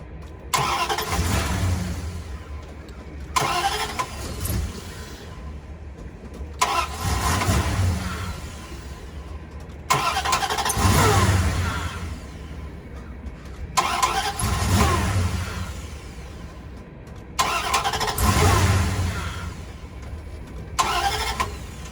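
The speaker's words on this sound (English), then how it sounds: "we're going to start this truck 10 times" A truck engine is repeatedly cranked and started with a portable jump starter, six or so loud bursts of cranking that catch and rev before cutting off, separated by short pauses.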